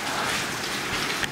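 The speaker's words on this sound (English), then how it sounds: "It's raining." Rain falls outside a horse barn as a steady, dense hiss that lasts throughout without a break.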